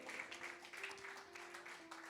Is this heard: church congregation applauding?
yes